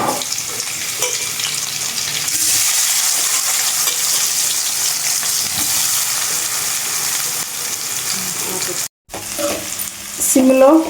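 Boiled sweet yam chunks fry in a pan with salt, turmeric and chilli powder, giving a steady, close sizzle with occasional stirring scrapes; a brief drop to silence comes near the end before the sizzling resumes with louder clatter.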